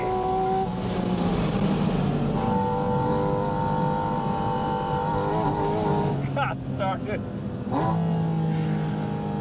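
Porsche 718 Spyder RS engine drones and rises in pitch under acceleration from inside the cabin, with gear changes and revs climbing again, while someone briefly speaks over it.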